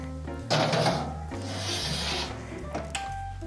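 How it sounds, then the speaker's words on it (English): A kitchen oven timer is turned to 15 minutes, giving a close, loud run of ratcheting clicks and mechanical rubbing with a couple of sharper knocks, and no talk over it. "And I'm going to set the timer for 15 minutes."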